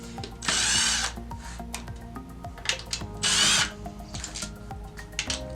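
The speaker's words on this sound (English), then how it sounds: "use the drill only for loosening these screws" A power drill loosens screws on a Caretaker 5-port pool valve during a rebuild, whirring loudly in two short bursts, with clicks and handling noises between the runs.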